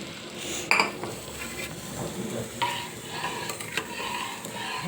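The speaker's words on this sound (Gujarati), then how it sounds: "જે આપણે દાળ બાફવા મૂકી છે તેમાં તડકો આપી દેવાનો છે" A hot tadka tempering is poured into boiled dal, giving a close sizzle and frying hiss with a metal spoon stirring and clinking against the pot, while a few sharp clinks stand out and no one speaks.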